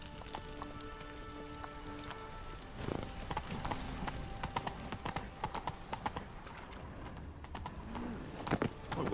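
Roach, the horse in The Witcher 3, clip-clops at a steady walking rhythm through rain, hooves close and clear over a constant patter of raindrops, with faint game tones early on.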